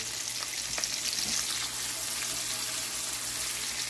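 Mushrooms and pancetta frying in a pan, a steady close sizzle with faint crackles and a low hum beneath, no talking.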